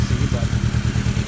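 A Toyota Tercel engine treated with Seafoam idles with a steady, low, rhythmic chug, running continuously and close by with no talk over it.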